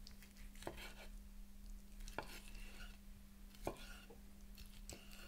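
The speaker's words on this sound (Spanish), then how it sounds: "Cortamos cada mitad de carne en varios trozos." A knife cuts cooked lobster meat into pieces on a board, with four distinct sharp chopping taps spaced about a second and a half apart over a steady low hum.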